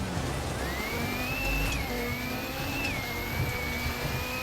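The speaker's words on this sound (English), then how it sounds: "I am not sure if that is how a rally car should sound like." A damaged rally car in a racing game drives a stage. Its strained engine drones loudly and steadily with rising and falling revs, and a thin, whining tone sits above the rumble.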